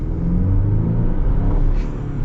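A 2023 Chevy Colorado Trail Boss engine accelerating, heard from the cabin as a loud, continuous low rumble with a slowly rising drone over a couple of seconds.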